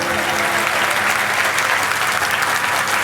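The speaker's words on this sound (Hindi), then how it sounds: "और ऐसी ताली आज बजाओ रोग देह के मिट ही जाए" Steady, dense applause from an audience at a Jain monk's religious discourse, continuous and fairly loud throughout, with no pauses or voices standing out.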